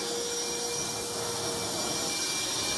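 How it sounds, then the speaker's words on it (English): Vacuum cleaners sucking up water from a plumbing flood, a steady, loud, broadband roar with a faint whine that continues unbroken throughout, with no voices. "Let's get another vacuum in here."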